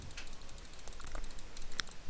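Clicks from a SteelSeries gaming mouse set up with a double-click macro, each press firing twice; faint, quick clicking ticks scattered across a quiet room with no talking.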